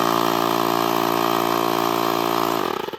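An Inflate-R compact wireless rechargeable air pump runs close up while inflating a tire, a steady loud motor drone with a faint rhythmic pulse that winds down and sputters to a stop at the end.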